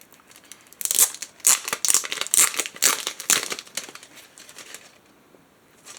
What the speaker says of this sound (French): je vais essayer de déchirer à l'intérieur, vous voyez, pour faire une petite ouverture